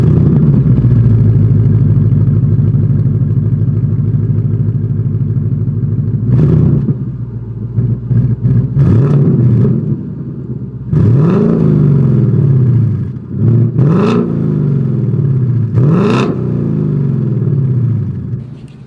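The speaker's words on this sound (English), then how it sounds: "We don't have that active valve performance exhaust today, but either way, here is that exhaust clip." 2021 Ford Mustang GT with H-pipe exhaust and no active valve system: a loud steady idle burble, then several sharp revs that rise and fall one after another, heard close up with no talk.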